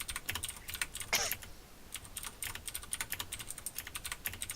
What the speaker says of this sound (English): So much typing, it's stressing me out.